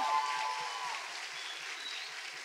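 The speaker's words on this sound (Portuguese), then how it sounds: "Palmas para vocês." Applause from the students and families at an Ismart alumni convention in Rio de Janeiro, a steady, moderate clapping wash from the audience with a faint rhythmic low thump beneath it.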